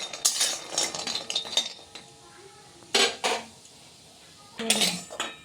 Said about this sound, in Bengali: নেড়ে তুলে নিলাম বড়িটাকে